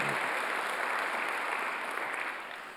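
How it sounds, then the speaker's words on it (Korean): Church congregation at a Sunday worship service clapping together, a broad, continuous patter of many hands heard from a distance at moderate volume, easing off slightly near the end. "박수 하나 주세요."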